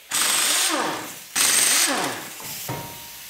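An impact gun spins off the wheel nuts on a Ford Mondeo Mk5, close and loud, in two strong rattling bursts followed by a shorter, weaker third.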